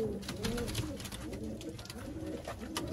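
A male teddy pigeon coos softly and repeatedly in gentle, rolling phrases, heard close but faint.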